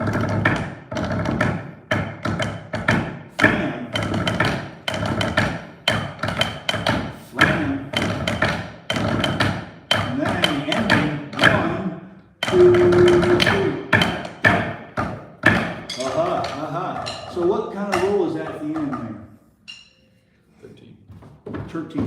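Rapid drum strokes played as a 13-stroke roll and accented hits, repeated in short bursts, close and loud, ending with a brief quieter tail.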